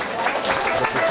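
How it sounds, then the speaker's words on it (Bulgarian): A tavern audience in the village of Kalipetrovo gives a brief, dense wash of applause for Dobrudzha folk musicians, steady and close. "Моля за вашите аплодисменти за тях"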